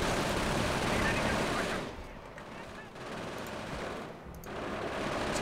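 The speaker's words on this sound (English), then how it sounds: "There's just, like, multiple machine guns watching it." Several machine guns in Company of Heroes firing continuous, loud bursts, dropping away twice for moments before resuming, with the rattle dense and close over a background battle din.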